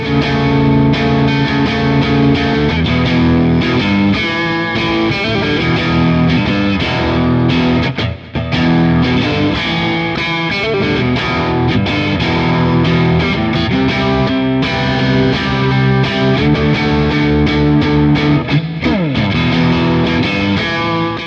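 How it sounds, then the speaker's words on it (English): Loud Epiphone Les Paul Modern electric guitar with heavy overdrive plays a sustained, thick distorted riff for over twenty seconds, with no voice. "all the way up to classic rock tones and big heavy overdrive tones as well."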